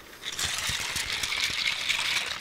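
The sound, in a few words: water trickling, ASMR water triggers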